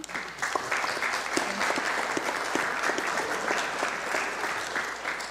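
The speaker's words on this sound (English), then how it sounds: "and that deserves a round of applause." An audience applauds at a city council meeting, with sustained, even clapping from a roomful of people that holds steady throughout at moderate volume.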